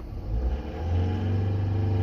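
A diesel van engine with a blocked diesel particulate filter revs hard at its maximum of about 3000 RPM, a steady loud drone with a low rumble throughout, with no talking.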